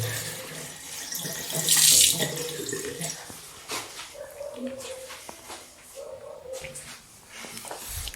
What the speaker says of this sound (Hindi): और मैंने गलती से पानी खुला छोड़ दिया था